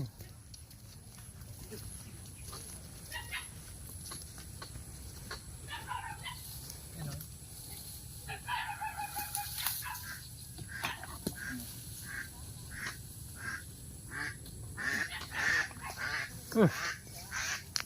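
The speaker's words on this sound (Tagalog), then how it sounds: "May itik." Ducks quacking around an old pig pen, scattered short calls rising over steady outdoor ambience and mixed with other fowl sounds, with people talking nearby.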